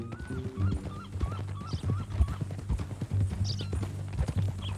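Horse hooves clip-clop in Red Dead Redemption 2, a steady rhythmic run of close, moderately loud hoof strikes over a low tonal background, with faint voices in places.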